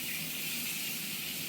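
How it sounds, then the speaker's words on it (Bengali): Pointed gourd (potol) frying in oil, a steady broadband sizzle that stays even and moderately quiet throughout, with no talking. "পটলগুলো ভাজা হয়ে যাক সব একবারে"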